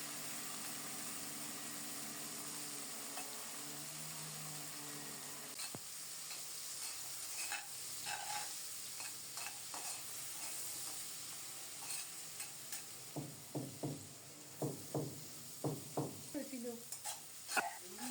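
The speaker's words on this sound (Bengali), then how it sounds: "কিছুক্ষণ ভেজে নিয়ে বরবটি দিয়ে দিলাম।" Yardlong beans and green chilies frying in a pan: a steady low sizzle with a faint engine-like hum beneath, then repeated sharp scraping strokes of stirring in a quick rhythm toward the end.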